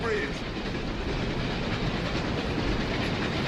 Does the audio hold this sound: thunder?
no